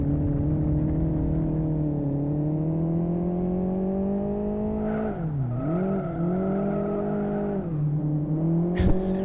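A race car engine in the driving sim Live For Speed drones steadily at high revs, with the pitch dipping briefly under braking before climbing again, loud and continuous with no talk.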